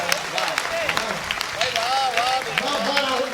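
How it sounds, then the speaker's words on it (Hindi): A crowd at a Hindi poetry recital in Udaipur claps loudly, the applause running beneath voices and excited vocal sounds close by. "एक बार जरा जोरदार तालियां बजाओ।"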